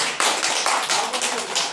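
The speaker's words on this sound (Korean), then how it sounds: "우리 오동주 회장님한테 좋은 이름 져줬다고 감사의 박수 한번 부탁드립니다." Audience at a Korean business gathering clapping in thanks, a dense burst of many hands that starts abruptly and holds steady and fairly loud throughout.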